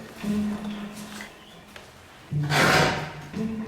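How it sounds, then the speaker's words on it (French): An old door creaks open in an abandoned manor, a drawn-out groaning creak with a woody scrape near the end, close and fairly loud in a quiet room. "On va ouvrir la porte."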